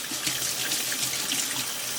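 Water pours steadily from a kitchen faucet into a sink, a dense, even rush of splashing that continues without a break and with no one talking.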